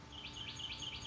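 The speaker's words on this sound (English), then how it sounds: "I don't know if you can hear the birds chirping out here" Birds chirp outdoors in a quick repeated pattern of short, high tweets, fairly faint against a steady background hiss.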